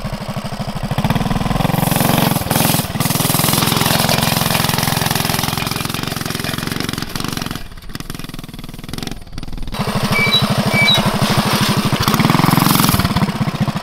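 A Coleman CT200U mini bike engine fitted with performance parts climbs a hill, running loud and steady at high revs throughout, with a brief dip in the middle before it pulls hard again.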